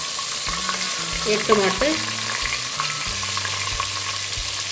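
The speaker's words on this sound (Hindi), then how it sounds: "ज़ीरा इसमें थोड़ा सा फ्राई हो गया" Cumin seeds and onion frying in oil for dhaba-style chana dal: a continuous low sizzle with a few stirring clatters, a low hum underneath, and a brief spoken word partway through.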